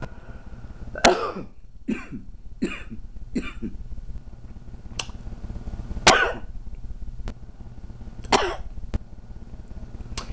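A series of sharp, dry coughs and throat clears, spaced irregularly over several seconds, close and fairly loud with no talking.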